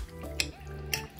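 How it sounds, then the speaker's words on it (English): Ramen noodles are stir-fried in a pan with very little liquid, giving a low, steady sizzle. Two sharp metallic clinks of a utensil against the pan punctuate it, with no talking. "So ang gagawin natin dito is stir fry lang."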